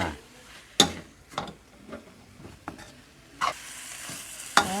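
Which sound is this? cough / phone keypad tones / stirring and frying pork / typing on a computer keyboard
stirring and frying pork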